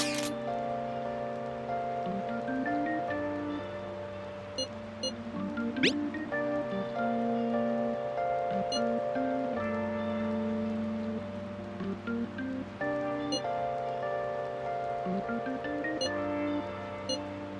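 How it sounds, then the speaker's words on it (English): Rainfall in the game Persona 5 Royal, a soft steady patter running beneath sustained melodic background music throughout, with no speech. "Rain, huh?"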